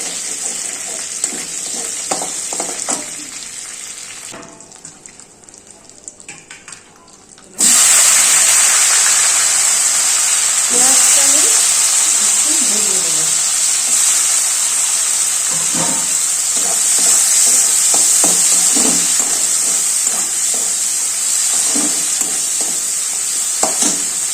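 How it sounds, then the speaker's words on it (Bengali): Onions frying in oil with dried red chilli and bay leaf for a jackfruit and prawn dish, a loud steady sizzle that drops away briefly early on, then returns strong, with occasional scrapes and knocks of a spoon in the pan. "লাল লাল করে পেঁয়াজটা ভেজে নিয়েছি"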